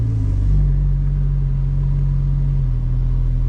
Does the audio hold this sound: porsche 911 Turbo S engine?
yes